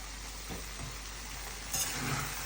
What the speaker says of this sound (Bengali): জিরা ধনিয়া পাঁচফোড়ন দিয়ে এটা আলুটারে সম্বার দিছি